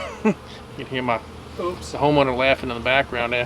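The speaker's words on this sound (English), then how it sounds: "that is a lot of bees" A swarm of honey bees hums at a young hive built into a cavity, a steady close buzz running beneath someone talking throughout.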